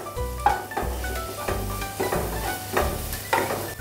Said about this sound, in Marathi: थोडंसं 1 मिनिटभर फ्राय करून घेऊया